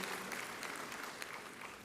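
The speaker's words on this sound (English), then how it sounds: "So please join me to give all our staff, students, and alumni a round of applause" Audience applause at a university graduation ceremony: a soft, distant patter of many hands clapping, continuous and fairly quiet for just under two seconds.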